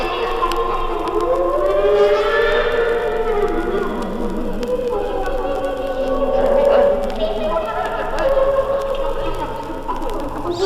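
Eerie electronic synthesizer tones glide and waver up and down like wailing sirens, loud and continuous over a low droning hum, portraying ghosts from outer space.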